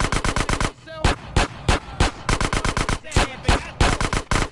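Rapid bursts of automatic gunfire in GTA San Andreas, loud and close, with sharp repeated shots in quick rhythmic volleys and brief pauses between bursts.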